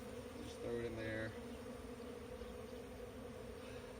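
Bees buzz steadily during a hive removal, a dense, faint swarm drone that stays constant throughout, with a brief louder hum from one bee passing close.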